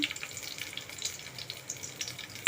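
Garlic, mustard seeds and fenugreek fry in hot oil, a close, bright crackling sizzle with quick irregular pops throughout.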